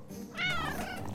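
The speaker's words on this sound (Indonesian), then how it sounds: "Oh, kucing lucu." A cat in an animated show gives a single short rising-and-falling meow, close and clear over faint background.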